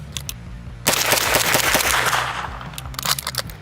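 An MP5 submachine gun firing 9mm rounds into graphics cards, heard as a rapid, close, loud burst of automatic fire lasting nearly three seconds, with a few scattered clicks before it and sharp echoing taps trailing after.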